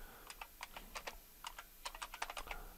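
Keys clack on a computer keyboard while a command is entered in a Debian Linux terminal: a quick, irregular run of about fifteen close, crisp keystrokes with no talking.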